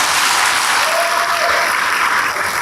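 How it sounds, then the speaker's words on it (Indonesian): Sustained loud applause from a church congregation clapping in praise, a dense even wash of many hands with no pauses across the whole stretch. "berikan tepuk tangan bagi Tuhan"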